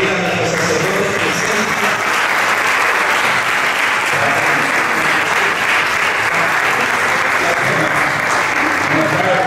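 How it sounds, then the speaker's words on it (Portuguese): A congregation at a Catholic charismatic renewal gathering gives its priest a loud round of applause, dense, steady clapping that fills the whole stretch without a break. "vamos dar uma salva de palmas para o nosso sacerdote."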